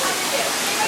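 Small Bushkill waterfall pouring steadily, a close, dense broadband rush of falling water that fills the short moment without a break.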